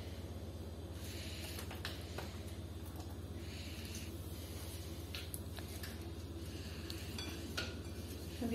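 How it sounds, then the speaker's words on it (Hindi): A spoon stirs chicken macaroni salad with mayonnaise in a bowl, giving soft, repeated scraping and squelching strokes, close and fairly quiet over a steady low hum. "अब ये सब चीज़ें डाल के मैं इसको अच्छी तरह मिक्स करूँगी"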